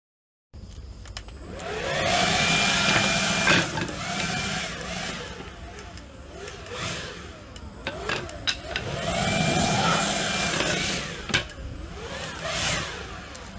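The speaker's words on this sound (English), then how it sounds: "Some of the stuff the leaf blower didn't blow off." A leaf blower blasts sawdust off cut wood pieces for a handmade wooden flag, a loud steady motorized roar that swells and dips as it is aimed, close by with no speech over it.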